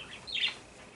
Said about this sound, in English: And I think that's just one bird.